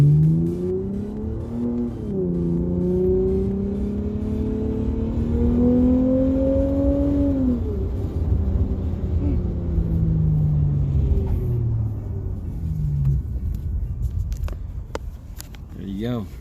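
A Lexus RC350 fitted with an Invidia Q300 exhaust revs up, the engine note climbing and falling through several sustained throttle blips before dropping back to idle, with people talking nearby toward the end.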